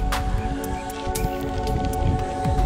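Steady rain patters during a mountain bike ride on an overgrown plantation trail, a dense continuous hiss of drops with a few sharper splats and rumbling low noise throughout.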